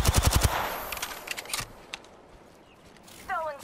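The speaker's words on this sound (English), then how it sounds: "I'm getting shot at" Rapid bursts of automatic gunfire in an Apex Legends-style squad shooter, a loud close rattle at the start followed by scattered distant shots and footsteps in the background.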